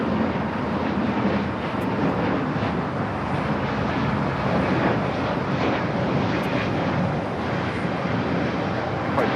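An ITA Airbus A350-900 jet taking off at LAX roars loudly and continuously, a broad sustained engine rumble with some wind buffeting on the microphone.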